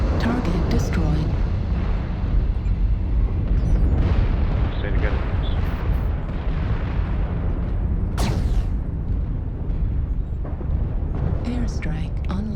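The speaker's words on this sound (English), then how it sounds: "Warning, incoming missile. Airstrike." Airstrike explosions in the mech combat game MechWarrior Online during heavy rain, deep rumbling blasts and booming bursts rolling over a dense, constant roar, with a sharp explosive crack partway through.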